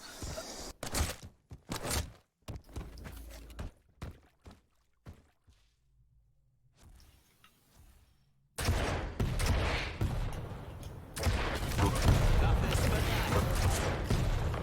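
Rapid bursts of weapon fire in a Quake Pro League match, sharp clustered shots broken by a quiet stretch before loud continuous firing returns, with commentators talking over it.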